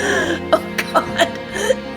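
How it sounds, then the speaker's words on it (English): Several short coughing bursts mixed with laughter, about four sharp spaced coughs over strained voiced breaths, close and fairly loud. "please don't cough and laugh at the same time"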